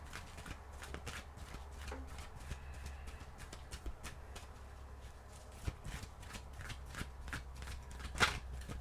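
Oracle cards shuffled by hand give off a faint, quick run of soft papery flicks and taps, steady throughout with a slightly sharper snap near the end, with no talking.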